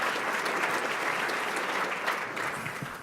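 An audience at an annual air-quality summit applauds the governor with dense, steady clapping that fills the room from start to finish and fades slightly at the end.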